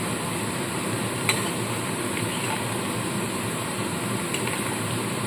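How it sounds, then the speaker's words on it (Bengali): Shredded potatoes deep-frying in plenty of oil for crisp jhuri aloo bhaja, giving a steady, even sizzle with a few faint scrapes as they are stirred, and no voices. "পুরো ছাঁকা তেলে এই আলুটা ভাজা হয়"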